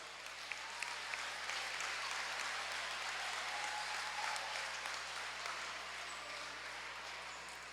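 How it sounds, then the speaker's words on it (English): Steady applause from a crowd at a high school basketball senior night, honoring the seniors in a gym, a continuous dense patter of clapping lasting several seconds, fairly distant and even in level, with faint occasional sharp claps standing out. "If you could help me by giving all of our seniors one more round of applause."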